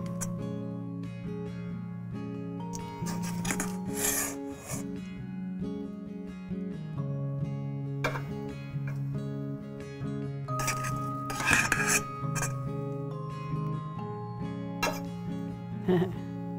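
Cooked rice being served out of a pot, with metal spoon clinks and scrapes against the pan at irregular moments over a steady, quiet tonal hum in the background.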